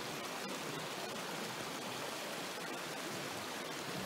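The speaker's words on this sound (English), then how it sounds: "The babbling brook." A babbling brook, a small river crossed on a forest hiking trail, gives a steady dense rush of flowing water close by, unbroken for the whole stretch with no voices.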